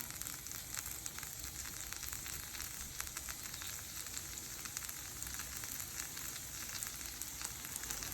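Food frying in a pan gives a steady, even sizzle with fine crackling throughout, fairly quiet and with no talking.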